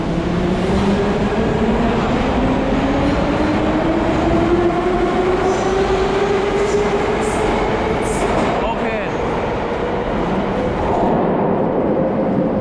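A metro train on the St Petersburg subway roars steadily for the whole stretch, a loud, close rumble with rising whine of the motors and light clatter from the wheels.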